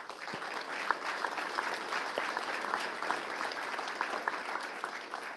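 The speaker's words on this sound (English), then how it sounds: "So big round of applause for our donors" Audience applause for donors at a grand opening and ribbon cutting in Kearney: steady, moderately distant clapping from a crowd fills the whole few seconds without a break.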